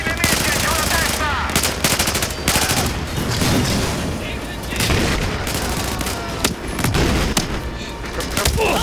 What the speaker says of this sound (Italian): Colpi nemici, giù la testa!